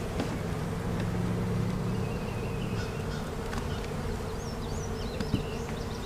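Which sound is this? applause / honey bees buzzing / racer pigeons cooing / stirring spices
honey bees buzzing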